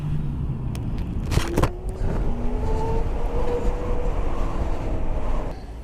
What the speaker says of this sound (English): All I can hear is just the wind just rushing past my ears.